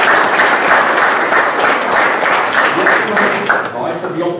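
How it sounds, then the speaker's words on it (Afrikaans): An audience gives a young girl named Roanay a warm round of hand clapping at a Day of the Vow gathering, dense and loud throughout, tapering slightly near the end. "Geef vir Roanay 'n lekker hande klap as."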